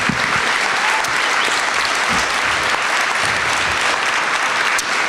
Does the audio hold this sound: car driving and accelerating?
no